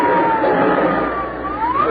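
An aircraft engine starting up as a radio drama sound effect, a steady loud mechanical roar with a slowly shifting whining tone.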